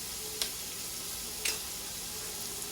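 Mirepoix of onions, celery and carrots with garlic sizzles in a hot pan over a high flame. It makes a steady, soft hiss with a couple of faint ticks and pops.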